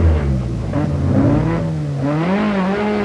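A rally car races along the Ashley Forest gravel stage in 1989, its engine revving hard and climbing through the gears, loud and close with shifting pitch.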